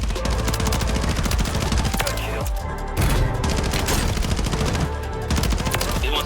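Rapid gunfire from a video game, dense bursts of shots running continuously at high level with brief dips, no clear voices.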